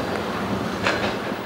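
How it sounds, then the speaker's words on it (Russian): Train wheels rattle over rail joints in a steady, close, continuous rumble with a few brighter clacks, no voices on top. "Стук колес поезда для Бабаева как биение сердца."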